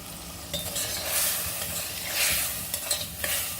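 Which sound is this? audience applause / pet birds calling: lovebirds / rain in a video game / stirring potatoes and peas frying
stirring potatoes and peas frying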